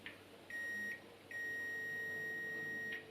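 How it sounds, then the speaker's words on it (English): A multimeter's continuity test sounds a steady high-pitched electronic tone twice while testing a motorcycle regulator rectifier and stator, first briefly, then a longer sustained beep, with quiet background between. "it gives a beep on my multimeter if I have continuity"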